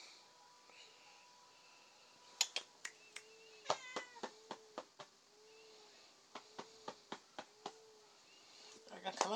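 Skittish house cat giving a few soft meows amid quiet clicks and snapping sounds, with short taps clustered in bursts and faint whispered talk under the quiet indoor background.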